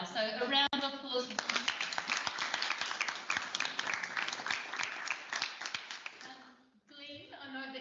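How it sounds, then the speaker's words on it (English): A round of applause breaks out in a district council infrastructure committee meeting, brisk hand clapping from a modest group that follows and precedes talking voices. "So a round of applause."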